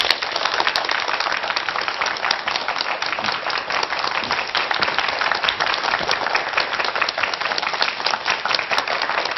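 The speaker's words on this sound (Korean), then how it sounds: "뜨거운 박수로 모시겠습니다." An audience at a televised lecture gives warm applause to welcome the speaker, a steady, dense wall of clapping from many hands that runs continuously and evenly without talk.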